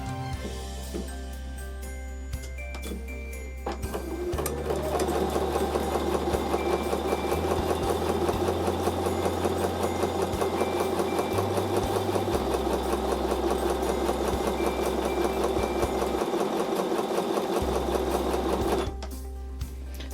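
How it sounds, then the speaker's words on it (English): A sewing machine stitches paired charm pack squares for a quilted table runner, a steady mechanical whir running for about fourteen seconds after a brief start, then stopping, with no talking. "I'm going to sew down on the other side of that sewn line."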